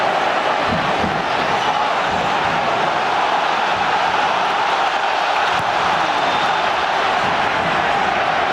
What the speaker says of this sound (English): The crowd has been lifted by that.